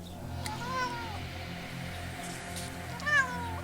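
A cat meows twice, a drawn-out call early on and a sharper one near the end, over a steady low electronic hum.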